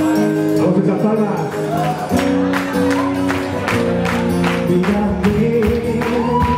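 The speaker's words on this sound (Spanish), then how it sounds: "¡Vamos a echar palmas!" A live audience claps in time, the steady rhythmic claps running under loud music and singing throughout.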